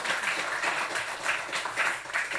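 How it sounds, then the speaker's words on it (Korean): Church congregation at a Sunday service claps for its choir, a brief, moderately soft burst of many hands applauding for a couple of seconds. "우리 성가대 경의 박수 한번 하겠습니다"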